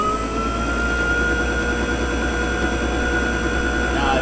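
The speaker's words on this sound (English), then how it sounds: "We're going to turn these using a motor. So let's start it up." Toro e26 two-stage electric snow blower motor running, a steady electric whine with a continuous hum and faint tonal overtones, close and even throughout.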